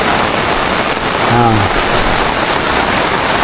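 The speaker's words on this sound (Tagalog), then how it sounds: "Medyo maulan-ulan." Steady rain falls on farm crops, including durian trees, as a dense, even hiss throughout, with a brief rising tonal sound near the middle.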